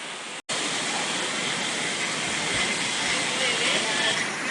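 Roaring, steady rush of the Copalitilla waterfalls near Huatulco, Mexico, a broad constant wash of falling water with a brief dropout near the start, loud and close with no voices.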